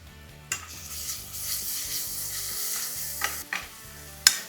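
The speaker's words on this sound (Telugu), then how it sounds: "ఇది మంచిగా మిక్స్ చేసుకోవాలి అల్లం వెల్లుల్లి పచ్చివాసన పోయేంత వరకు వేగిన తర్వాత" Ginger garlic paste and turmeric frying with onions in a pan for aloo kurma, with a steady close sizzle under repeated scraping stirs and a sharp utensil clink near the end, with no voices.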